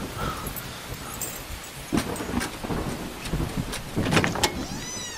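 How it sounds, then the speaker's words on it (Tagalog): Storm rain pours steadily with rumbles of thunder building in the middle and near the end, a moderate, continuous wash with no talking. "Grabe naman itong bagyo na ito."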